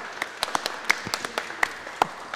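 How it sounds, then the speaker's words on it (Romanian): Scattered handclaps from a small audience at a giveaway finale, a few sharp claps spread unevenly over a couple of seconds, fairly faint with no talking. "bravo, aplauze!"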